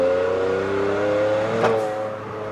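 A Volkswagen up! TSI engine revving steadily, a loud close drone that swells and then gives a brief exhaust pop partway through, heard alone without talk.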